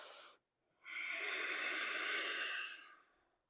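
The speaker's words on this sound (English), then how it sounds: "Make some sound with your breath in your throat." Audible throat breathing in the Ujjayi style during a yoga flow: a short breath, a pause, then a long steady rasping exhale lasting about two seconds, close and alone with no talk.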